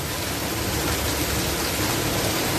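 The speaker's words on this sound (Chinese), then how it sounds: "雨水沿着楼梯一层一层流下来，宛如小型瀑布。" During a heavy rainstorm in Wutai township, Pingtung, rainwater pours down a staircase step by step like a small waterfall, giving a dense, steady, close rushing roar with no voices.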